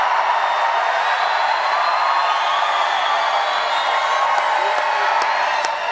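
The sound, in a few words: rally crowd cheering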